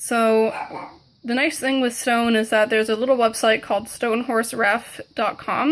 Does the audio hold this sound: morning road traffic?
no